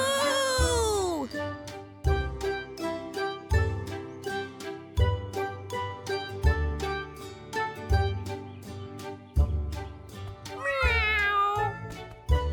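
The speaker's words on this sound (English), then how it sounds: "Meow!" A cat gives a couple of rising, whiny meows at the start and again near the end, close and clear, while a rhythmic plucked musical backing plays under them.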